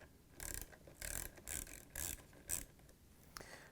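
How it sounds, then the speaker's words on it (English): A 5/16 socket wrench loosens the pump connector clamp on a GE appliance pump, giving a series of short, close ratcheting bursts in a regular rhythm with brief pauses between strokes. "We're going to use the same 5/16 socket to loosen it up so we can remove the pump connector."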